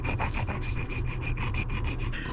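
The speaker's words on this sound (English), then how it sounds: "I just got a little file. See this burr? I'm just trying to take that down just a little bit." A small file rasps down a burr on the steering shaft of a Champion bass boat in quick, even back-and-forth strokes, about a dozen close strokes with no talk.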